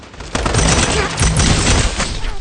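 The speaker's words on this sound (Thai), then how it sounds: "ไอตัวเนี้ยปืนแรงมาก" Rapid gunfire from the hero shooter video game Strinova, a dense burst of loud shots filling the whole span with booming low end, close and continuous, with faint voice under the barrage.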